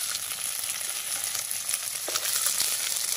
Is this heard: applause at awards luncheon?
no